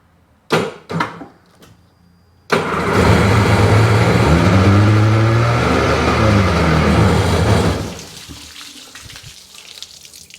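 A Sea-Doo 3D 787 two-stroke engine, run on a garden hose with suspected water in the gas, gives a few sharp cranking pops, then fires up into a loud, steady roaring run that cuts off after about five seconds.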